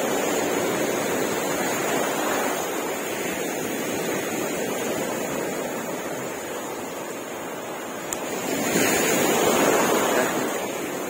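Sea waves washing onto a beach, a constant loud surf roar with wind buffeting the microphone and a brief surge as a larger wave breaks near the end.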